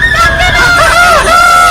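Children's voices imitate a rooster crowing, loud wavering high calls that rise and fall together in a brief, close chorus.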